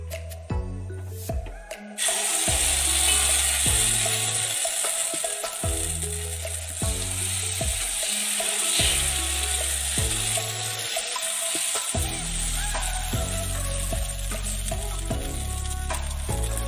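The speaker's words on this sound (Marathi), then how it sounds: "कढई छान तापलेली आहे। आता यामध्ये पीठ घालून घेऊया।" Rice-flour batter for ghavan hits a well-heated iron pan and breaks into a loud, sustained sizzle that carries on steadily, with a faint tonal hum underneath and no talking.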